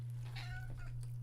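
Cat meowing indoors, one brief close meow over a steady low electrical hum, fairly faint.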